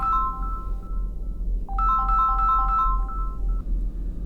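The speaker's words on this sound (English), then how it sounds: "then my phone rang in my hand," A mobile phone plays its ringtone, a clear electronic melody of bright repeating notes heard alone at close range over a low background hum.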